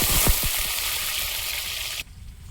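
Potatoes frying in oil in a wok, a steady close sizzle with a few stirring knocks near the start, then a sudden drop to quieter frying after two seconds.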